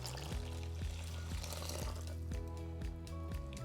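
Oil and water are poured into flour for pierogi dough, a continuous close liquid stream under a steady low musical hum.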